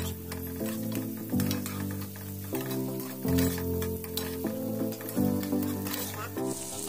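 Chopped onions sizzle and fry steadily in a pan for Filipino beef kaldereta, a continuous close crackle with occasional stirring, layered under steady background music.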